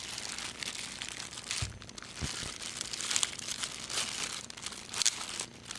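Plastic wrapping around a Planet Audio TRQ622 Torque 6.5-inch speaker crinkles and rustles steadily up close, with a few sharper crackles standing out.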